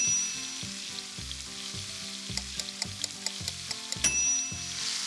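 Strip steaks sear in a hot skillet with a steady, loud sizzle, broken by a run of sharp metallic clicks and taps near the end as the meat is handled.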